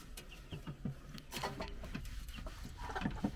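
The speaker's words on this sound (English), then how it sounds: "Let's go check out the chickens. There's chickens over here." Chickens clucking at an outdoor bird park in Foz do Iguaçu, a scatter of short, uneven clucks at close range with birdlike chatter and no talking.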